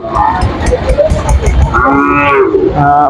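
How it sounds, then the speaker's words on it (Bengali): Cattle at a busy cattle market moo loudly and close, a long drawn-out low call followed by another, over a dense background murmur of the crowd and animals. "এখানে অনেক গরু"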